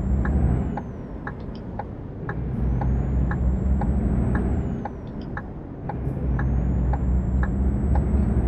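A heavy truck in the Euro Truck Simulator 2 video game idles and rolls with a steady low engine rumble, with a faint whine rising and falling above it and periodic air brake hisses and clicks.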